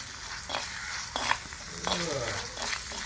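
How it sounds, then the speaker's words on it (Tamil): Ginger and garlic sautéing in a pan for a Tamil chicken pepper gravy, a continuous close sizzle broken by a few scraping stirs of a utensil against the pan. "இஞ்சி பூண்டு நல்லா வதங்கட்டும்"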